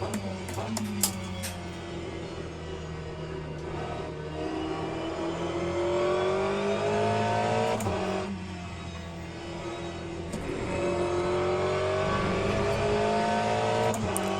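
A GTE race car in the Le Mans Ultimate racing game holds a loud, steady engine note that rises and falls through upshifts and throttle changes, running continuously without talk.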